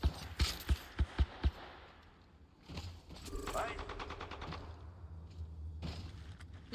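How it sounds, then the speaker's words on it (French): Gunfire in Apex Legends during a ranked match: a rapid string of about six sharp, loud shots at the start, then quieter mechanical clatter, with more distant bursts and action sounds continuing underneath. "Je tire."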